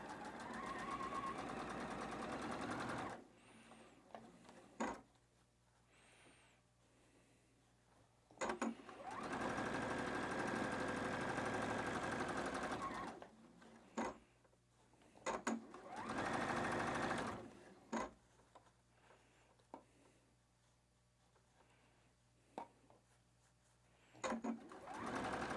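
Sewing machine stitching the last rows of a patchwork quilt block, running in several steady bursts of a few seconds each, with quiet pauses between them.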